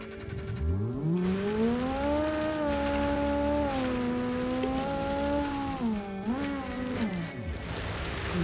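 A rally car in the BeamNG video game accelerates hard, its engine note climbing and holding high through several gear changes, with brief dips, loud and close, no speech.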